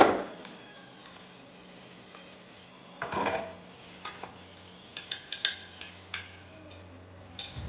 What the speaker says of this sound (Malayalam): നേരെ കിച്ചണിലേക്കാട്ടോ പോയത്, പാത്രങ്ങളൊക്കെ കഴുകി വെക്കാൻ വിചാരിച്ചിട്ട്